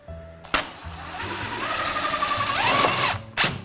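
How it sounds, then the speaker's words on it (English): Power driver sinks a self-tapping screw into sheet-metal heating ductwork, a close whirring motor that rises in pitch under load for a few seconds, with sharp clicks at start and finish. "We can throw in a couple of screws now just to make sure this assembly doesn't come apart."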